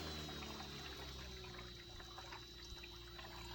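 An electric water pump turned down to its minimum setting, with water flowing steadily through the cooling loop; a continuous wash of liquid sound with a faint steady hum, alone and unchanging throughout.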